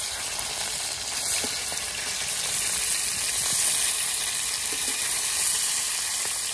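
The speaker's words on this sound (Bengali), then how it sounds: "আর এদিকে দেখো আমি মাছ কেটে নিয়ে এসেছি, মাছও ভাজা বসিয়ে দিয়েছি" Cut fish frying in a pan gives a steady, close sizzle with a bright, constant hiss and occasional small pops, with no one speaking.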